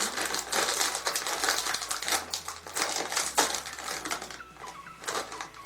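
Crisp packet of American chips opened at close range, a dense run of crackling, crinkling plastic rustles lasting several seconds with no talk.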